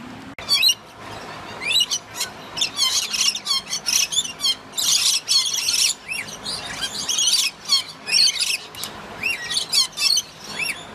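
Birds calling in a zoo bird area, a dense chorus of sharp chirps, tweets and occasional squawks from several birds at once, loud and close, with no talk.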